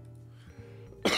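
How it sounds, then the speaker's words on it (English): A single person coughs once, sharply and close, after a moment of faint low background hum and soft throat sounds. "yep, coughs are still there."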